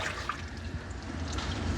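A shower head sprays water in a steady, soft hiss and splatter as a dog is rinsed during grooming, faint and continuous with no talking.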